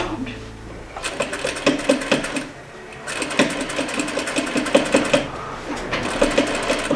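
A sewing machine stitches a slipcover welt in two fast, rattling runs of needle strokes, separated by a brief pause, with a voice talking quietly under the machine.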